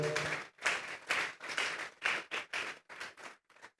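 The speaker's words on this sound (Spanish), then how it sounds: "Deles ofrenda de palmas a Dios en esta hora" A church congregation claps hands together in a burst of rhythmic, fairly even claps lasting a few seconds, moderately close and with no speech over it.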